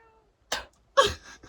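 A cat meowing inside a packed car on a rainy morning: two short, close, fairly quiet vocal bursts, the second longer and trailing off, separated by near silence.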